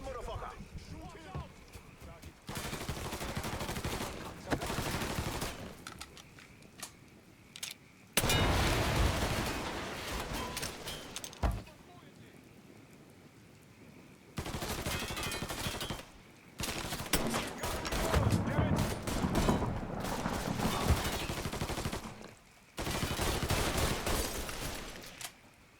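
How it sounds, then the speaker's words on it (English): Bursts of gunfire from a shootout in the game Mafia III come in loud clustered volleys separated by quieter gaps, with shouting voices mixed in throughout. "Shoot him!"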